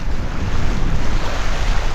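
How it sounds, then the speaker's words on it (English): Strong wind buffets steadily with a constant roar of surf beneath it, loud and unbroken throughout. "As you can see, it's really windy out here."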